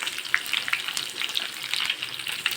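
Onions, carrots and green chillies fry in oil with curry leaves while being stirred, a close bright crackle and busy spatter with irregular scraping throughout and no voices.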